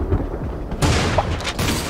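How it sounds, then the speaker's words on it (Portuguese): In the shooter Creative Destruction, two heavy shotgun blasts go off back to back within a couple of seconds over a steady game background. "Você manda um tiro atrás do outro."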